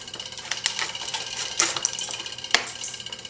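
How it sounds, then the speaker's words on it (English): Star San-sprayed scissors snip the edge off a yeast packet up close, a few sharp clicks and crinkly plastic cuts with quiet rustling between them and no talking. "Just going to cut the edge off."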